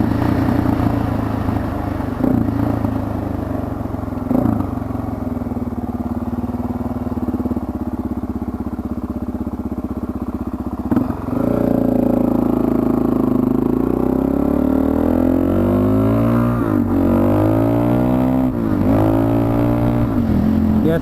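A motorcycle engine drones steadily while riding, then climbs in pitch as it revs hard in second gear, loud and close with rising and falling rev sweeps in the second half.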